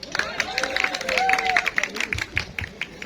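An audience at a prize distribution ceremony claps for a volunteer, a steady patter of applause at moderate distance. A voice speaks over it.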